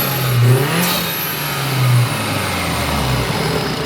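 Car engine revving up in a couple of bursts then settling into a steady rumble, close and fairly loud, with no talking.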